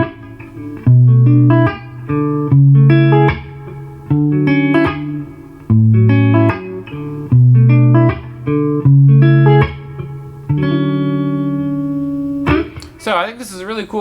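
Four extended chord voicings are played on guitar, each one strummed and held as a clear, ringing sequence with short gaps between chords, then a brief jangle at the end.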